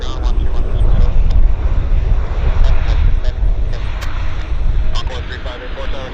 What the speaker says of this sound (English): Another aircraft landing. It's a CRJ from Sacramento, California.